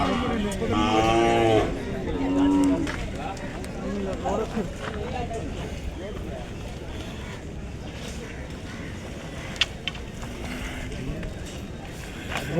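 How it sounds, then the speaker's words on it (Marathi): At the Belhe bull market in Maharashtra, a bull gives two loud, drawn-out moos near the start, then crowd chatter and bargaining voices fill the rest with a busy outdoor murmur. "बैल"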